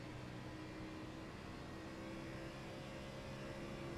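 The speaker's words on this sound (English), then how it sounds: "you can really hear the tires scraping. They're singing." Race car tires scraping and singing through the corners at Darlington in an Xfinity Series racing video game, a steady droning engine hum with a sustained tonal whine running throughout at even loudness.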